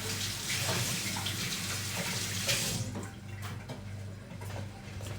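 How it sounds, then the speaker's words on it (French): Hands being washed under a running tap in a home kitchen, a steady broadband water rush for the first half that thins to quieter trickling and drips near the end. "Je me passe les mains sous l'eau et j'arrive tout de suite."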